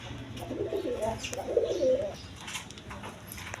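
A pair of racer pigeons at a Bangladeshi pigeon seller's coos in two soft, throaty rolling phrases, close by, with a quiet background.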